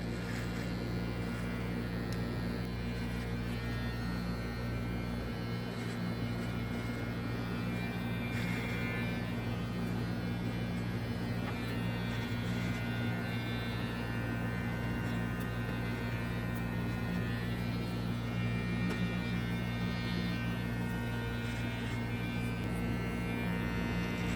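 An electric hair clipper trims the outline of a beard during a barbershop beard treatment, giving a steady close buzzing hum that runs unbroken with no talk.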